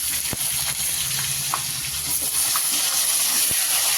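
Cut potatoes go into hot oil in a frying pan for a Bengali banana flower dish with prawns, making a constant close hiss and sizzle with a few soft knocks and clicks over it.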